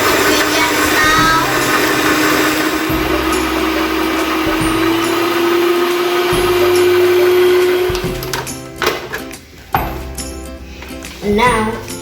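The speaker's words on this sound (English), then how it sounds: "It's time to mix our ingredients. So guys, as you can see, we're trying to mix our wet ingredients now." A stand mixer whirs loudly and steadily as it mixes wet cookie ingredients, its motor tone rising slightly, then cutting to intermittent clatter and quieter bursts near the end.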